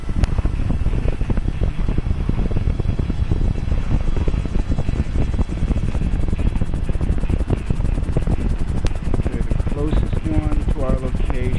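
A helicopter flies in a video game, its steady rotor and engine roar droning loud and unbroken throughout while a voice talks over it.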